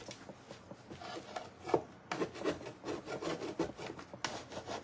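A hand scraper rubs and rasps old finish off the wood of a banjo, with repeated short scratchy strokes at close range and uneven pauses between them.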